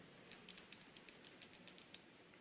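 A quick run of about a dozen crisp, clacky key presses in a steady typing rhythm on a CJ ENTUS K200G optical-switch mechanical keyboard with slightly heavy keys, close and clear against a quiet background.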